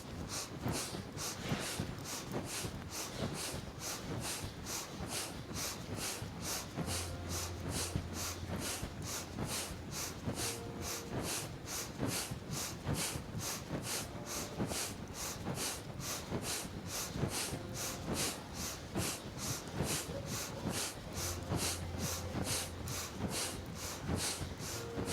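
Rapid, rhythmic sniffing breaths during fast yoga twists, a steady run of sharp nasal inhales and exhales repeating about twice a second for the whole stretch, close and even in loudness.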